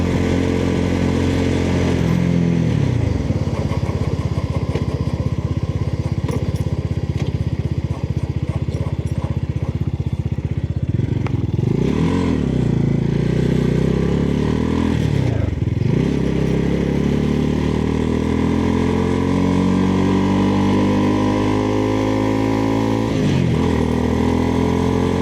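A motorcycle engine drones steadily throughout a ride, loud and close, with periodic rises and dips in pitch as the throttle opens and eases off, and no talking over it.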